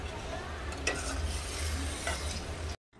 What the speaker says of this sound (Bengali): তো চলো তরকারিগুলো সব একটু গরম করে নিই।